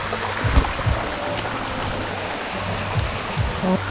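Steady rushing water from a waterfall and stream in Sri Lanka, a dense continuous wash that stays near and fairly loud throughout, with a few faint low tonal hums underneath.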